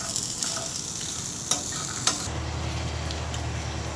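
Garlic, onion and a handful of green chilies frying in oil in a pan, a close, continuous sizzle with a few sharp stirring clicks before the sizzle settles into a steadier, quieter hiss.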